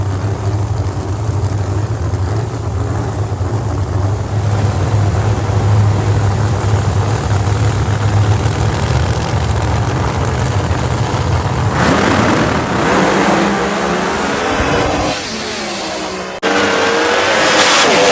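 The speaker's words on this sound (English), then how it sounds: "Here comes Ty Tutterow in the Camaro." A Camaro pro mod drag car roars down the strip at a Pro Mod Nationals drag meet, a loud sustained engine howl that builds and shifts in pitch, then cuts abruptly near the end.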